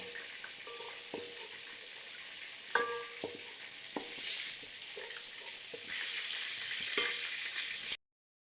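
Garlic paste frying in a pan for a beef handi kabab, with a steady sizzle and several sharp clinks and scrapes of stirring spaced through it before an abrupt cutoff.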